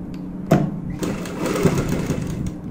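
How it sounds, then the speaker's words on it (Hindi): A sewing machine stitches the edging of a kurti neckline in short bursts, a quick mechanical whir starting after a sharp click, close and moderately loud. "किनारी की सिलाई लगाएंगे"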